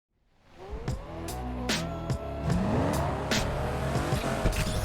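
Race car in the NFS Unbound video game accelerating hard, engine revving through gear shifts while tires squeal and skid loudly and continuously, close and dominant with no talking.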